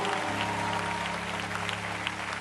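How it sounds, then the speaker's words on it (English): A church congregation applauds Bishop Carlton Pearson at a morning service. Steady, moderately quiet clapping from many hands continues without a break over a low hum, with no voices standing out. "let's give God a hand clap of praise for him"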